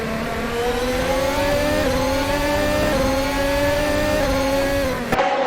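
Formula 1 race cars in the video game F1 2022 at Barcelona, their engines holding a steady high-pitched whine at full throttle for several seconds, then a quick gear shift near the end.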